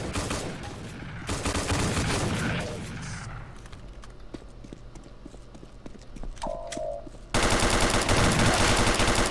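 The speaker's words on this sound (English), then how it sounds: "Everyone just started opening fire once they got in the game." Bursts of gunfire in the video game Treason, rapid dense shots at first, then scattered sharp pops over a quieter stretch, ending in another loud burst.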